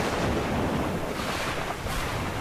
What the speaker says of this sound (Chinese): 海浪声